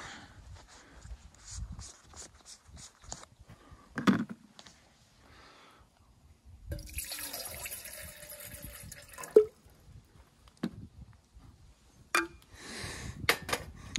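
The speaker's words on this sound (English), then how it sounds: "Put the exact amount of water you want." Water pours faintly into a camping coffee maker inside a minivan, a short trickling fill of a few seconds between soft handling clatter and small knocks, quiet and close.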